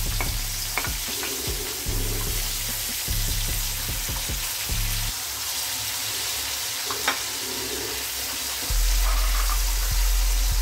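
Tomatoes go into a pan of hot oil with curry leaves and fry with a steady, close sizzle, broken by a few sharp clicks and clatters of a spoon and utensils, with no talking.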